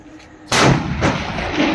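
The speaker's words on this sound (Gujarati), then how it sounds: "અત્યારે અગાઉથી જ સિંદરી બોમ્બ ફોડવા માંડ્યો છે." Firecracker bomb set off in celebration during a cricket match, one sharp loud blast followed by a rumbling echo and a second dull thud, close by with no talk.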